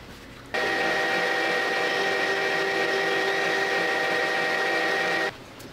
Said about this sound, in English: I'm going to add a chamfer before reaming so the chamfer will guide the reamer into place